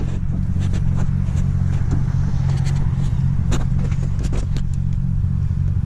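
Engine of a turbocharged Chevy SS 1500 pickup with a 6-liter V8 and a Trick Turbo kit, a steady loud low rumble at idle with light clatter and faint ticks over it.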